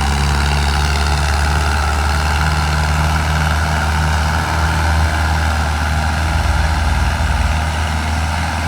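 A heavy diesel tractor engine idles steadily and loudly close by, its low rumbling chug constant throughout.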